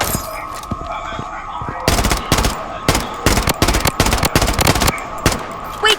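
Rapid submachine gun bursts ring out in the shooter game Blood Strike, loud close clusters of shots in quick stuttering runs with short pauses between bursts.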